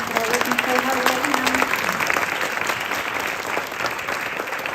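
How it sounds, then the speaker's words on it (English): Town hall audience applauding ASL interpreters, a dense, steady crowd clapping that holds throughout, with a voice briefly audible early on. "can we have a big round of applause for our ASL interpreters that are working so"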